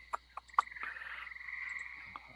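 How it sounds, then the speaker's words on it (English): Tree frogs and crickets in the woods at night: a few sharp frog croaks come in short bursts over a steady, faint insect drone, quiet and distant. "All you hear are crickets and tree frogs."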